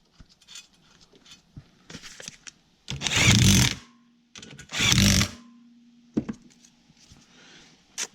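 A power tool drives hex bolts on the water pump fan of a 1942 Farmall H tractor in two loud bursts of about a second each, with quieter handling clatter around them.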